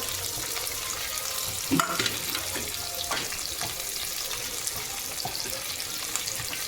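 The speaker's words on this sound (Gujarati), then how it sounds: "આદુ લસણની પેસ્ટ સતરાઈ જાય એટલે આપણે નાખવાનું મિક્સ વેજીટેબલ" Mixed vegetables sauté with ginger-garlic paste in hot oil, a steady close sizzle with a few stirring scrapes and one sharper knock of utensil on the pan.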